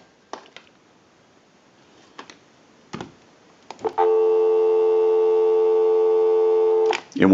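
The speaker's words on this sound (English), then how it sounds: "Go ahead and give you some dial tone." A Western Electric rotary dial wall telephone gives a steady dial tone for about three seconds after a few soft clicks and handling sounds, loud and close, then stops.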